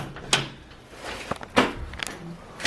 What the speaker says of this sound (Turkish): Kilitliyorum kapıyı da.